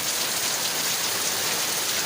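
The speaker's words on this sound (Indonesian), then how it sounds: "Tadinya mau berangkat mancing, nggak taunya malah hujan mas bro." Morning rain falls steadily, a dense, even hiss of drops with no pauses. It is fairly quiet throughout and no one speaks.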